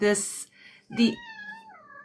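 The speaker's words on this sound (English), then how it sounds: "oh, sorry, that's just my cat." A pet cat indoors gives a couple of drawn-out meows, the second one long and falling, close and fairly soft. A brief voice comes just before the cries.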